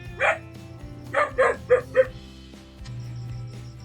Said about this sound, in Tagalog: Yo, may aso.